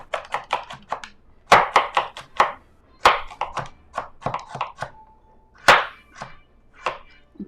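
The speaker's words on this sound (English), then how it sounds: "I'm going to drive my knife down and make quick slices" A knife chops quickly through a purple carrot on a cutting board, a run of sharp, close knocks in uneven bursts with short pauses between them and no voices.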